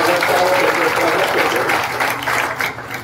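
A village crowd at an election campaign visit breaks into loud, sustained applause to welcome an arriving guest, a thick clatter of many hands that eases off slightly toward the end.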